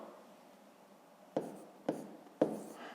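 A pen or pencil writes numbers on paper during a fifth-grade math lesson, giving faint scratching followed by three short, sharper strokes.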